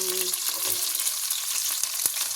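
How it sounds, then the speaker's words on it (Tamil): Onions sizzle and crackle steadily in hot oil in a pan for a fish curry, a dense close frying hiss with a few soft stirring clicks and no voices. "வெங்காயம் போடலாம்"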